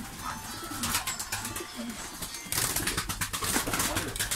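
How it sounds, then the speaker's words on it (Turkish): A flock of flying pigeons in a coop, a mixed lot including Malatya pigeons, coo in dense overlapping murmurs close by, over a steady background hiss and faint voices. "Burada da bu kümesede kendi uçurdukları kuşlar var."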